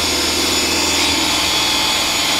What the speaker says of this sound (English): The drill is, of course, doing all the rubbing and it'll work